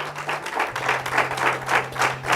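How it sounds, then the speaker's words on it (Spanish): A church congregation claps together in a steady rhythmic beat, about two claps per second, over a low sustained hum. "Dele otro aplauso al Señor."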